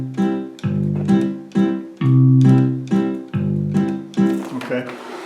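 Piano-like keyboard accompaniment alternates a low bass note with a full chord in a steady oom-pah pattern, with loud, close, evenly spaced strikes and no talking.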